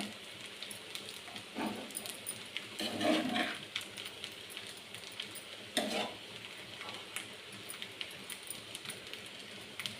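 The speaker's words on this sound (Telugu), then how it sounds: "ఈ టమాటా ఎగ్ మొత్తం రైస్కి పట్టేటట్టు మిక్స్ చేసుకోవాలి" Tomato egg fried rice is stirred and tossed in a hot pan, a steady close sizzle broken by a few louder scraping sweeps of the spatula, with no voices over it.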